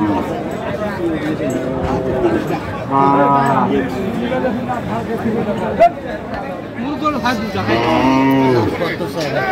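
Several loud, drawn-out moos from a cow at a cattle market, one early and another near the end, over a busy crowd murmuring and chattering nearby.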